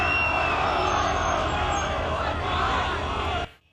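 A crowd of more than a hundred people gathered at a street protest in Kyiv, Ukraine, producing a steady, dense hubbub of voices with scattered shouts and cheers that holds at an even level before cutting off.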